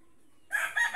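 A rooster crows abruptly after half a second of near silence, a loud, close, strained call that rises and holds, with no talk over it.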